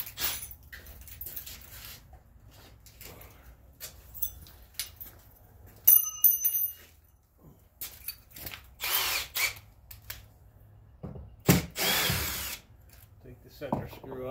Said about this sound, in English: take one screw out of each hinge, the center screw.